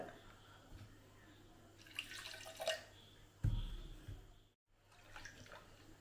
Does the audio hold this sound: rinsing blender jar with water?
yes